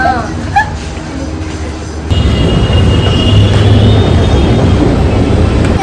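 A metro train rumbles loudly and steadily as it moves. A voice is briefly heard at the start before the noise grows louder.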